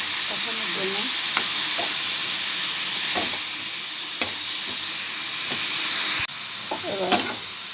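Tilapia fish curry sizzles steadily in a pan as it is sautéed after water is added, a continuous frying hiss broken by occasional scraping stirs and light clatter, close and without talk.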